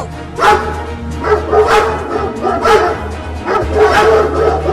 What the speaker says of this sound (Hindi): वो कुत्ता फिर से आ रहा है और देखो वो एक और कुत्ता को भी लेकर आ रहा है